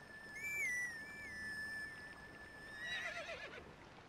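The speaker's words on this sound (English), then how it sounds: "So do I find grass and blow into it to summon my horse?" A horse neighs in the video game Twilight Princess, a few shrill whinnying calls that ring out alone over a quiet background, after a high reed-like melody is played.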